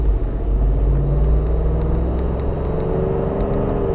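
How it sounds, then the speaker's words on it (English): A Jeep JK being driven, heard as a steady, loud low engine and road rumble with a faint whir throughout, and no talking. "Let's take a short little drive here."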